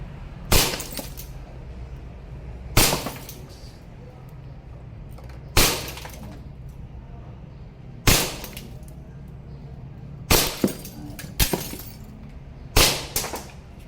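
Glass bottles shatter one after another from WE M92 Beretta airsoft pistol shots: six sharp, bright crashes with tinkling debris, spaced a couple of seconds apart over a steady outdoor background.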